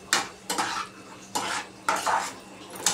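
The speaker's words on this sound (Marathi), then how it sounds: "पूर्ण मिक्स करून घ्यायचं आहे, गॅस कमीच ठेवायचा आहे" Semolina and water being mixed in a pan over low heat, with a few distinct scraping and clinking spoon strokes against the pan in an uneven rhythm, close and fairly loud.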